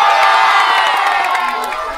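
A crowd at a street event in Las Piñas cheers, shouts and whoops loudly, with children's voices among them, a dense roar that fades slightly toward the end.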